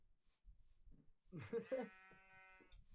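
A sheep in the Minecraft video game gives a clear bleat in the middle, set amid soft shuffling game sounds, with a brief voice nearby.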